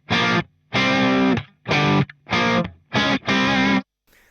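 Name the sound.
PRS electric guitar with distortion and reverb, Marshall-like tone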